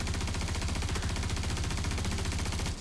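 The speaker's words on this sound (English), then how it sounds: "the recoil control is not good on this SMG" Continuous rapid SMG fire from a Star Citizen video game firefight, a steady automatic burst of tightly spaced shots running without pause for nearly three seconds, loud and close.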